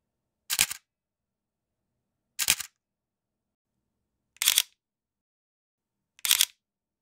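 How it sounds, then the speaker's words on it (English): Mechanical shutters on a Canon R7 and a Sony A6600 mirrorless camera fire four crisp, close shutter clicks, each about two seconds apart, with silence between them. "this is how each camera sounds when using the mechanical shutter"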